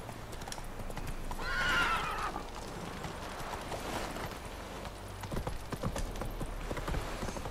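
A horse ridden in the video game The Witcher 3 clip-clops steadily at close range, its hoofbeats continuous under ambient game sound, with a whinny rising partway through.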